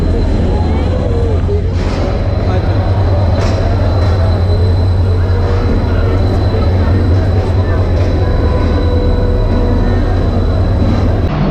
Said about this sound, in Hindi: इंजन आ रहा है जी, HMGU 30 आ रहे हैं।